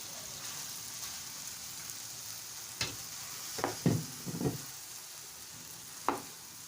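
Pumpkin porridge ingredients fry in a pot ahead of the yam going in, a soft steady sizzle broken by several distinct stirring scrapes and knocks near the middle and end.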